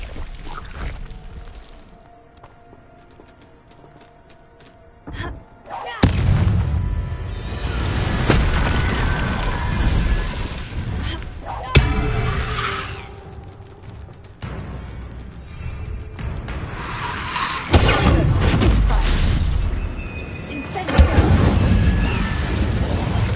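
Incendiary spell explosions from Hogwarts Legacy burst out as several loud, deep booms, each followed by a rumbling, crackling tail, over quieter ambient game sound.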